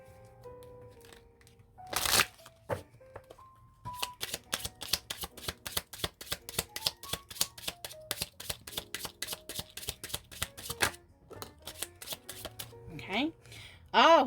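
Tarot cards shuffled and drawn by hand, giving a long run of quick, crisp riffling flicks in a steady rhythm, with a few sharper slaps and taps in between, close and moderately loud.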